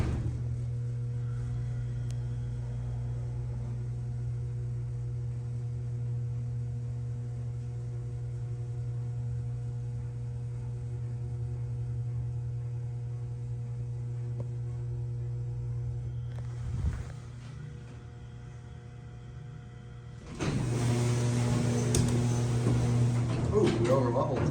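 A vintage Schindler Haughton elevator at the Buell Building, Lawrence Tech in Southfield, travels with a steady low motor hum. Near the end the hum dips briefly as the car levels, then a louder, brighter mechanical noise follows.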